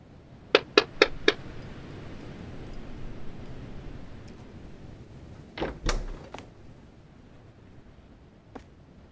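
Knocking on a door in the game Night Delivery: a quick run of four sharp raps, a quiet stretch of room tone, then a few more knocks and a final faint tap.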